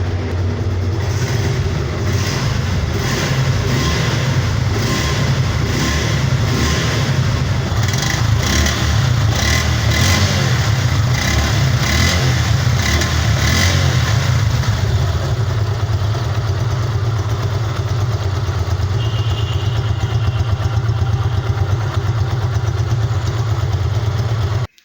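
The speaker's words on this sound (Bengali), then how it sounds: "আপনাদেরকে বাইকের সাউন্ড কোয়ালিটিটা পিক আপ টেনে এবং ছেড়ে দিয়ে দেখালাম" A black 2023 Suzuki Gixxer Monotone motorcycle with about 10,047 km on it runs loud and close, its engine revved in a series of rhythmic throttle blips for the first fifteen seconds before settling into a steady idle.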